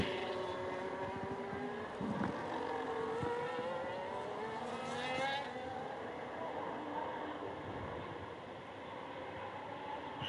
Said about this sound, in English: So Pilo has spun